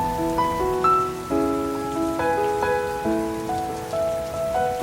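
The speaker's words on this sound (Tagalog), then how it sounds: "Umuulan na nga. Baka mabasa tayo." Steady rain falls on surfaces in Metro Manila, a constant hiss running beneath a clear melodic line of sustained tones that plays throughout.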